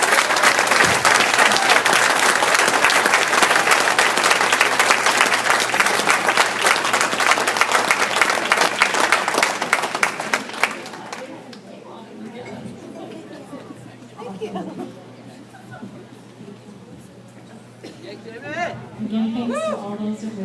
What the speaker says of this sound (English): So to these people, you should applaud